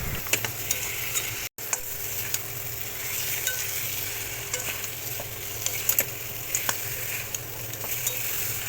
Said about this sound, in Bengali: সমস্ত মশলার সাথে মাটনগুলোকে কিন্তু বেশ ভালো করে কষাতে হবে